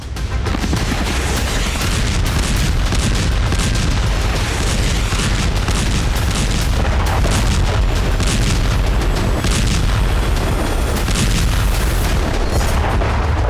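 Grad multiple rocket launcher firing in eastern Ukraine, a dense, continuous barrage of booming blasts and rumbling launches that stays loud and unbroken for the whole stretch, with no voices.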